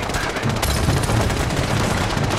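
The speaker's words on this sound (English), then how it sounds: "He's got a machine gun." Loud, dense machine gun fire rattles without a break in Fallout 4, rapid shots blending into one sustained roar.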